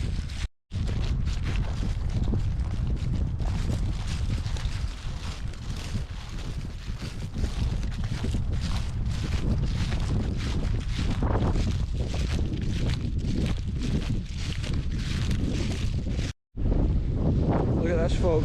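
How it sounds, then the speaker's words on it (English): Strong wind gusts roar across open, windswept coastal land in Scotland, a loud continuous rush with heavy low-end buffeting on the microphone, cutting out briefly twice. "The wind's blowing now that we're out in the open"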